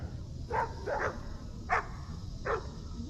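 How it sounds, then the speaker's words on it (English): Several dogs in a pack bark outdoors near a river, about four or five separate barks spread over a few seconds, heard from a distance over low background rumble, with no voices. "We got dogs, a pack of dogs out here."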